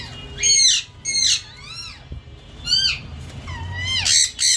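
Shrill, screeching calls of yellow ring-necked parakeets in breeding season ring out in repeated harsh bursts, loud and close, with short pauses between the cries.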